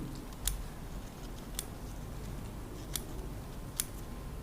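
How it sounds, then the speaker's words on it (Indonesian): Bonsai leaves on a serut tree are trimmed with scissors: four sharp, quiet snips spaced about a second apart, close by against a soft background hiss. "Contohnya, bisa perhatikan kita memangkas daun-daun yang ada. Ini menggunakan alat ya gunting."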